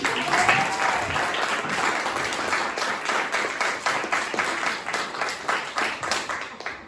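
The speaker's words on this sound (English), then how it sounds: "Please give a round of applause for Kelly Lynch." An audience applauds steadily, many hands clapping at a fairly even loudness from start to finish, with no talking.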